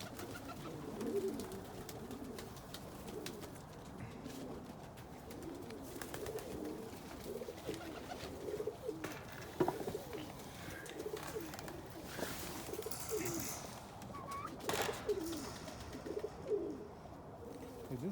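Pigeons coo steadily inside a pigeon loft in cold weather, soft overlapping calls repeating throughout at moderate distance, with a few bird chirps and faint rustling mixed in.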